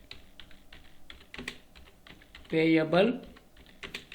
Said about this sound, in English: So here you have to type interest payable class.